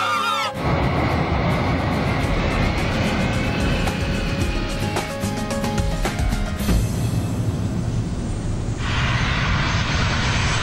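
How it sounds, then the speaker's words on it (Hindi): Jet airplane landing on a runway, a loud, steady broadband roar that fills the whole stretch without a break and brightens near the end. "हमने इतने कम डिस्टेंस में लैंडिंग की है कि अगर हम पूरी फोर्स से भी ब्रेक लगाए तो प्लेन रनवे पे नहीं रुकेगा।"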